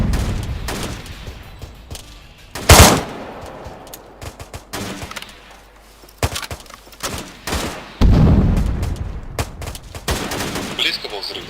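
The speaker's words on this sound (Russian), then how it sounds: "Близко был взрыв граната от тебя или нет?" Gunfire bursts and a heavy grenade blast from the ARMA 3 military video game, with sharp loud volleys in rapid clusters, a big explosion boom mid-sequence, and voices talking between the shots.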